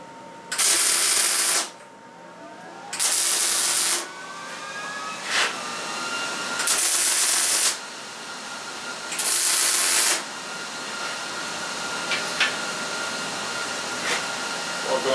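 Arc welder putting tacks on a steel pallet lifter in a shop: five loud hissing, crackling bursts of about a second each with short pauses between them, then a few faint clicks.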